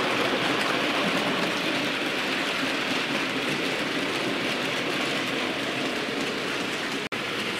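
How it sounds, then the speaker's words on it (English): Steady rumbling rolling noise of a Bachmann Class 56XX model locomotive pulling a heavy freight train along track, fairly close, with a brief dropout near the end. "Pulling a heavy freight train."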